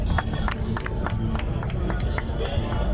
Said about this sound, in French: Voilà, on applaudit très fort.